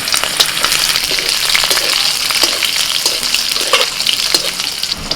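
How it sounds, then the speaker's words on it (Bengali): Green chilli, dry chilli and whole cumin crackle loudly in hot mustard oil in a kadai, a dense, steady, close sizzle with sharp spitting pops throughout. "কড়াতে সর্ষের তেল দিচ্ছি কাঁচা লঙ্কা শুকনো লঙ্কা ফোড়নে দিচ্ছি গোটা জিরে"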